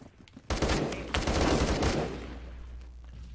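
Rapid automatic gunfire in a Roblox shooter, a dense loud burst of overlapping shots from a spawn box under fire, tapering into lingering echoes.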